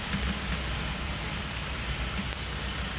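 Continuous road traffic noise from trucks, buses and cars in a traffic jam on a rainy day, a dense steady low rumble without talking.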